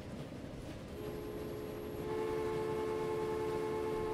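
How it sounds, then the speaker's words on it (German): A train in the Transport Fever video game pulls in with a steady rumble that swells and settles into a sustained tonal hum, with no talk over it. "jetzt kommt der andere Zug an"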